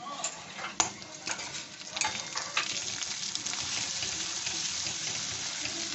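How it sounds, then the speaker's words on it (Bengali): Ground spices for a banana flower chop being sautéed in a pan, a dense continuous sizzle with scraping stirs, sharper at the start and then settling into a steady close frying hiss. "এবার কষে নিচ্ছি।"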